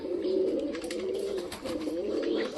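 Pigeons coo softly and repeatedly in low, rolling phrases, close up, with no talking.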